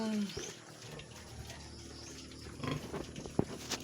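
Piglets being fed on a farm, eating crystal pear feed: grunting, snuffling and wet slurping sounds close by, with some watery splashing and a voice speaking faintly in the background.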